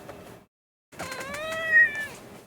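A cat meows twice, a short call followed after a pause by a longer rising, wavering meow, close and clear with no talk.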